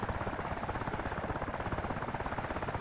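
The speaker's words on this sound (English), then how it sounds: "So that is a UH-60, more commonly referred to as a Black Hawk helicopter." Army UH-60 Black Hawk helicopter in the DCS A-10C flight game gives a steady, close rotor roar with fast rhythmic blade thumps throughout, no voices.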